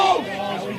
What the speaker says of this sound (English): You'll hear the crowd from the bar say run and kick a barrel.